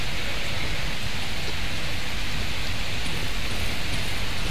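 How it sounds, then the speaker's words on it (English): Steady rain in the video game Darkwood, a dense, even hiss of falling water that stays constant throughout, with no voices over it. "It's raining."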